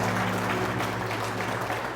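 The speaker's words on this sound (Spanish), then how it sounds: "¿Cuántos aplauden al Señor?" Congregation in a church service applauding during a Palm Sunday sermon, a steady, dense wash of clapping filling the room for the full two seconds, with a low sustained hum from instruments or sound system underneath.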